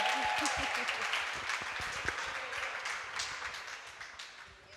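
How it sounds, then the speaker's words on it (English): Audience applause at a graduation affirmation ceremony, a dense patter of clapping, fairly loud and sustained, with scattered voices mixed in. "Give her a round of applause, ladies and gentlemen."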